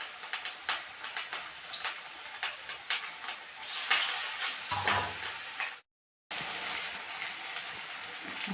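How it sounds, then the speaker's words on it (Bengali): Cauliflower fritters fry three or four at a time in hot oil, crackling and spattering in irregular bursts like rain, with a brief cut of silence partway through. "সবগুলো আমি একবারে দিব না, আমি 3-4টে করে ভেজে নেব।"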